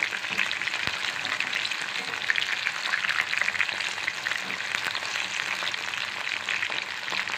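Mushrooms frying in a pan for a Tirunelveli-style mushroom fry, a steady close crackling sizzle with one sharp tap of a utensil and no voices.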